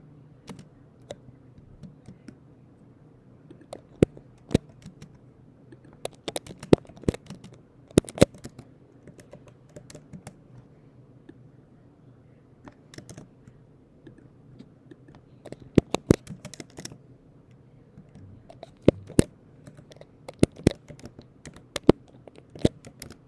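Sparse, irregular keystrokes on a computer keyboard tap in scattered bursts over a quiet low hum, with long pauses between clusters of clicks.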